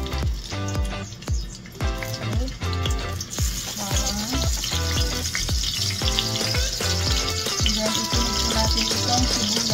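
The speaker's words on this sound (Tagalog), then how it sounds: "So ilagay na natin itong bawang." Garlic hits about two tablespoons of hot oil in a pan, giving a loud, steady close sizzle with dense crackling throughout and no talking.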